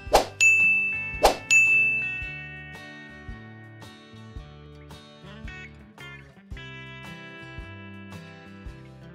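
A notification bell sound effect rings out as two loud, bright dings in quick succession, then fades into a lighter chiming melody with a steady tinkling pulse, with no voices.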